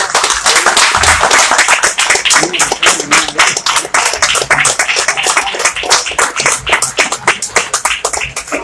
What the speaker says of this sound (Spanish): Un aplauso para Lito y la plaza